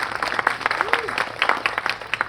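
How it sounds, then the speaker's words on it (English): Applause from a Memorial Day ceremony crowd for Naval JROTC cadets, a stretch of scattered clapping at moderate distance, with some speech mixed in. "Give them a big round of applause."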